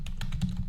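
Fingers tap out a quick burst of about five keystrokes on a computer keyboard, each click close and distinct over a low background rumble.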